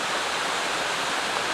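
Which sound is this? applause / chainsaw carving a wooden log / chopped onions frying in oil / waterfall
waterfall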